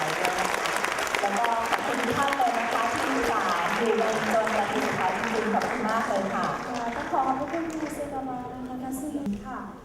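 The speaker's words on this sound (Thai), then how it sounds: "ยังไงขอเสียงปรบมือให้กับทั้งสามท่า" At a Thai corporate panel discussion, an audience claps in a steady wash of applause that runs under a speaker's voice for nearly ten seconds and tapers off slightly toward the end.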